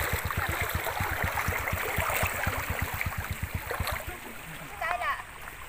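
Cold mountain river water runs over rocks with a quick, rhythmic series of close splashes that fades into a softer flowing rush, with voices heard in the background.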